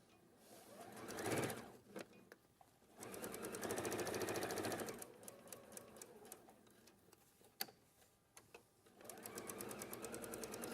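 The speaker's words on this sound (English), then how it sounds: "I'm going to now sew this all the way around the edge using a 1/4 inch seam allowance with no gaps" A sewing machine stitches a 1/4 inch seam all the way around the edge of fabric. Its rapid mechanical whirr comes in bursts and stops, with faint ticks and clicks between runs.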